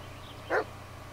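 A dog gives a single short bark in the Blair Witch video game, one sharp mid-loud woof amid quiet forest ambience and a low steady hum, with no speech.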